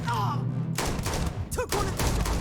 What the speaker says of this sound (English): Shot him in the crotch